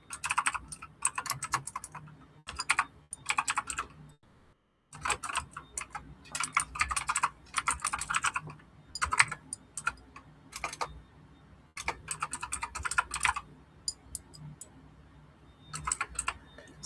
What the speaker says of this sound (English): Let me just go ahead and type this in real quick.